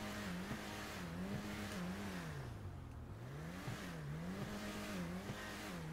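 A turbocharged car engine in GTA V revs repeatedly against the rev limiter, its pitch rising and falling in rhythmic sweeps with short popping cuts, loud and steady with no talk.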